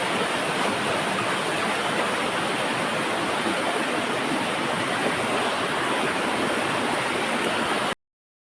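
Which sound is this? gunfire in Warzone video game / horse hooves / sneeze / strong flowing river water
strong flowing river water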